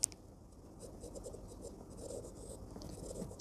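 Quiet, faint scratching of writing on a board during a statistics class, light irregular strokes heard alone with no talk over them.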